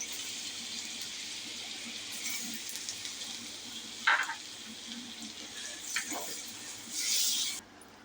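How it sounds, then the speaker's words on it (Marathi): Garlic frying in butter with a little oil over a very low gas flame, giving a soft, steady sizzle with a few brief louder spits and crackles, no talking over it. "हे बघा, बटर आणि थोडंसं आपण तेल टाकायचं. ह्याच्यात आपण लसूण टाकून घेऊया."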